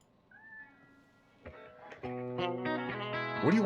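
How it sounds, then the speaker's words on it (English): A domestic cat gives a short, faint meow near the start, then indoor musical sounds come in and build louder. "What do you want, kitty?"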